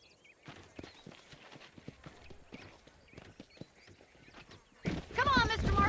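Horses' hooves clip-clop at a walking pace in Red Dead Redemption, a close, uneven patter that ends in a loud neigh, with voices talking over it.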